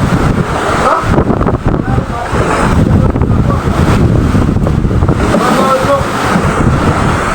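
Rough open-sea waves and strong wind batter a fishing boat about 30 miles offshore, a loud continuous rushing roar with buffeting gusts across the microphone and voices partly masked underneath.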